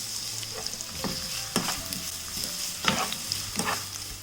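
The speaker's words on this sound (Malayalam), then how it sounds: "നമുക്ക് ഈ സ്ലൈസ് ചെയ്ത് വെച്ചിരിക്കുന്ന സവാള ഇതിലേക്ക് ഇട്ടിട്ട് വഴറ്റി കൊടുക്കാം" Sliced onions sauté in ghee with a steady close sizzle, broken by a few rhythmic spatula stirs and scrapes across the pan.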